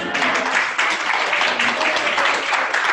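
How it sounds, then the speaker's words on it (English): Audience applause at a university PhD in Education for Social Justice information session: a steady, dense wash of clapping that holds at an even level for about three seconds with no voices on top. "Should we do a round of applause for everyone?"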